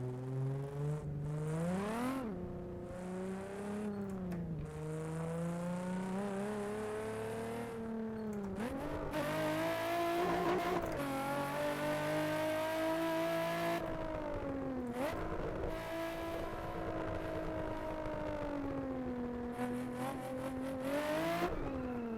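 Nissan 350Z engine in the Assetto Corsa driving game, revving up and down through repeated gear changes, a loud, close, continuous engine drone rising and falling in pitch for the whole stretch, with no talking.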